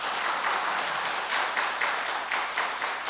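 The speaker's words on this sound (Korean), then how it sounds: "우리 박수로 우리 환영하도록 하겠습니다." A church congregation applauds to welcome guests during a Sunday afternoon worship service, steady full-room clapping heard throughout, close and loud with no talk.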